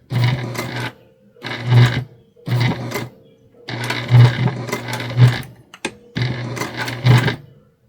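A sewing machine stitches a bag in short bursts, several separate runs of rapid rhythmic clatter with brief silent pauses between them, loud and close.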